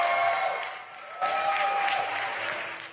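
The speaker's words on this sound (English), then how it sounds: "The Great Britain's fans on their feet, applauding both sides." Great Britain fans on their feet applaud both sides at a wheelchair rugby world championship match, a dense, sustained crowd clapping that dips briefly before swelling again.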